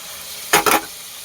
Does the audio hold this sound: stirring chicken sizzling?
yes